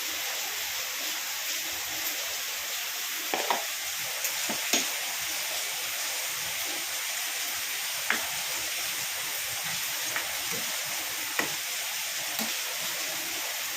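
Raw plantain simmering with masala in a pan on the stove gives a steady close sizzle and steam hiss, broken by a few soft clicks and stirring taps.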